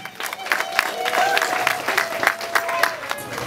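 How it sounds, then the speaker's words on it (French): An audience at the launch of a radio station in Kikwit applauds a staff member, an uneven burst of clapping with distinct individual claps, mixed with crowd chatter and a cheering voice or two. "Mitterrand Maté, on va applaudir pour lui aussi."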